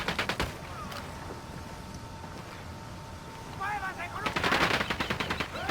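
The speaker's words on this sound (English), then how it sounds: "Opening fire on these fuckers." Automatic gunfire crackles in quick bursts during a firefight in Ghost Recon Wildlands, with sustained background noise between the volleys and a voice speaking alongside the shooting.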